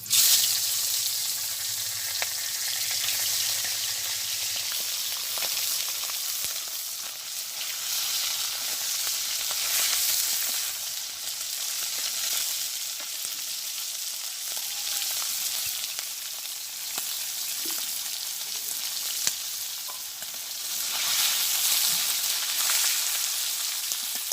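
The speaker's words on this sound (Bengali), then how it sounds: "তেল আছে কড়াইতে, আর তেল দেবো না, এর ভিতরে দিয়ে দেবো এই মাছটা।" A fish fries in oil in a wok for a village-style dish, giving a steady, close, broad sizzle that runs on for over twenty seconds with slight swells and no voices.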